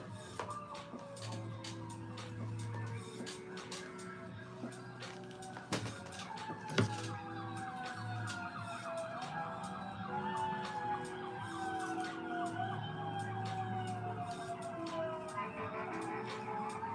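Emergency vehicle sirens wail along a street by a highway, rising and falling tones sweeping past at moderate distance over traffic noise, with a few sharp knocks nearby.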